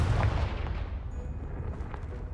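A Confringo explosion spell goes off in Hogwarts Legacy, a heavy low boom that blasts apart a blocking pile and then rumbles and fades over a couple of seconds, with no talk.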